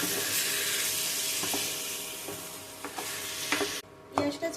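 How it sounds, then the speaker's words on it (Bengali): Onion for a spicy home-style mutton curry sizzles steadily in a hot pan while a spoon stirs it in repeated scraping strokes. The frying hiss stays close and loud, breaks off briefly near the end, then returns. "পেঁয়াজটাকে অ্যাড করে দিলাম ভালো করে নাড়াচাড়া করে আমি এবার এটাকে কষিয়ে নেব"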